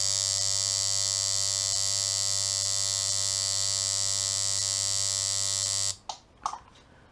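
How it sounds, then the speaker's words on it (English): A coil tattoo machine with a wider gap, heavier armature bar and 18 gauge springs runs at a slow, steady buzz for about six seconds, loud and close, then stops; a few brief knocks follow. "So this machine's going to run a lot slower."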